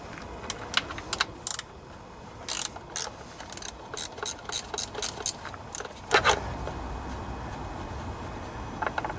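A wrench ratchets bolts loose on a Briggs and Stratton OHV Intek engine, fitted where a socket is blocked by the battery, giving close, crisp bursts of clicking in repeated short runs separated by pauses.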